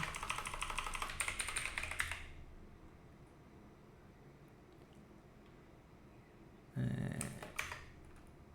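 Keys tapping on a computer keyboard in a burst of quick typing at the start, then a long quiet gap, and a second short burst near the end; close and fairly soft with no talk.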